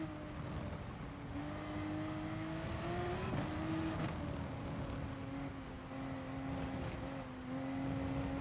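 Race car engine in GT Sport at steady high revs, a loud continuous whine with small pitch dips at gear changes and corners, the tone climbing gradually, with no talk.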